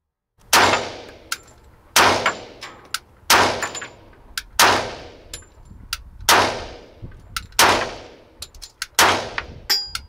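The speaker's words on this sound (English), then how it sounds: "The gun fires, it goes off, it comes right back on target." Seven loud, evenly paced SIG Sauer P220 pistol shots fired outdoors at an Oregon range, each sharp crack ringing out with a brief echo tail, with faint metallic clinks of ejected brass between shots.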